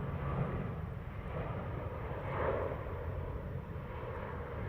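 An Airbus A350 or Boeing Dreamliner departs Heathrow runway 09R with a distant, steady jet roar that swells slightly midway and carries on faintly.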